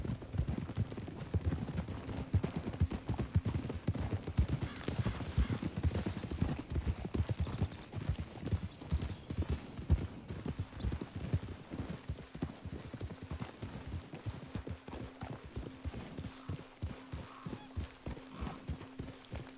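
Horse hooves clip-clop steadily and close in the video game Red Dead Redemption 2, a brisk continuous rhythm under faint ambient game sounds.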